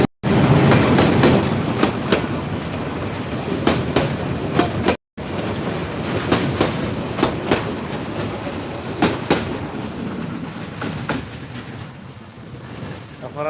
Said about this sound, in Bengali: এখন আর ট্রেন দেখাইলাম